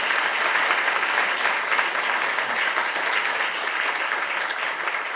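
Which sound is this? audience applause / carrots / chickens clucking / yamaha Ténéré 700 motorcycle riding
audience applause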